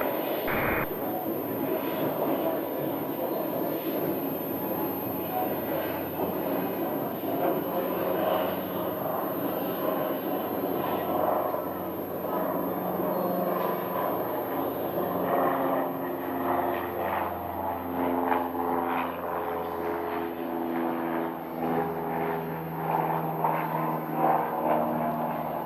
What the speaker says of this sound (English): there goes the Cessna 172.